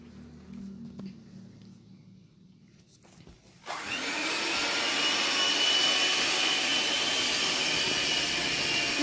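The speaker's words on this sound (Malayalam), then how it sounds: "എന്നിട്ട് മുട്ടയുടെ വെള്ളയിലോട്ട് ആവശ്യത്തിനുള്ള ഉപ്പിട്ട് കൊടുക്കാം. എന്നിട്ട് നന്നായിട്ട് ബീറ്റ് ചെയ്ത് കൊടുക്കാം." Electric hand mixer beating egg whites with salt for a fluffy omelette starts after a few seconds of low room noise, then whirs loudly and steadily to the end.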